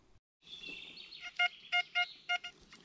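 A metal detector in a forest sweeps a rising and falling electronic tone, then gives a series of five or six short, bright, repeated beeps in a steady rhythm, clear and close.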